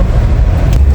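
Car driving past a new subdivision, a loud steady engine and road rumble from inside the vehicle, with no speech.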